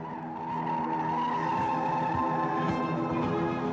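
A Soviet-era military aircraft braking hard and swinging around at the end of a runway gives a steady, loud, sustained tonal roar with squealing, skidding-like character and no voices.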